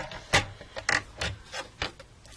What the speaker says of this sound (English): I'm going to come back in with the trimmer